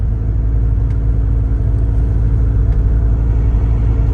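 Steady low engine and road rumble from a car cruising in fifth gear at about 52 mph, a continuous, fairly loud drone with no change in pitch.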